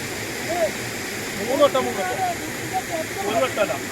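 Madari waterfall at Karuvarakundu roars as a steady, broad rushing wash of falling water, with faint voices talking over it now and then.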